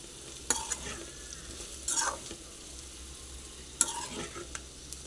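Cluster beans (goru chikkudukaya) stirred in a frying pan with a spoon, a steady soft sizzle underneath and a few sharp scraping strokes scattered through, close and fairly quiet, no talking.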